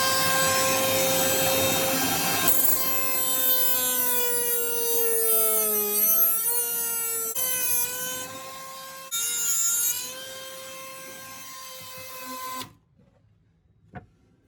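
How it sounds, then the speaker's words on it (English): Power tool running flat out to cut off screws during an off-grid Mitsubishi Express van build, a loud, sustained whine shifting in pitch as it bites, then stopping abruptly, followed by a sharp tap. "You adjust the speed. I've gone flat out. And just cut the screws off."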